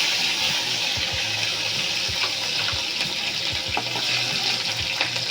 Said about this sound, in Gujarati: આપણે લીલા મરચાં નાખીએ.